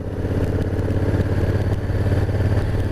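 A Honda CRF1000 Africa Twin DCT adventure motorcycle engine idles steadily up close, a deep throbbing rumble with a rapid even pulse and faint mechanical clatter.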